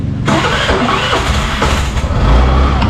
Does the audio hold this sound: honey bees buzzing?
no